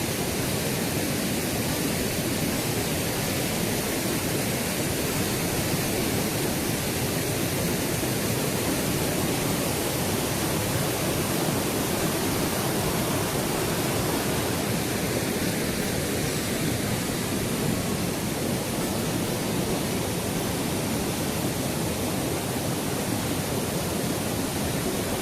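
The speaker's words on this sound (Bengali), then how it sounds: "এই জলরাশি আসছে" A waterfall at Parasnath hill near Dhanbad roars steadily, with dense, loud rushing water filling the whole stretch without pause and no voices.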